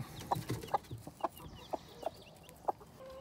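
A mother hen clucks near her two baby chicks on a homestead: about six short, soft clucks at an uneven pace, fairly close, with little else around.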